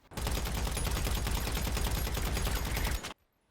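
Rapid, unbroken automatic fire from an AP pistol in GTA Online rattles out loudly for about three seconds, then cuts off abruptly into near silence.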